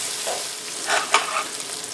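Garlic sizzles in a pan while cooking chicken fricassée, a soft, steady frying hiss with a few louder crackles and a brief stir, close and alone without speech.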